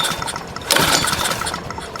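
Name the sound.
Pramac GC160 Honda generator engine starting up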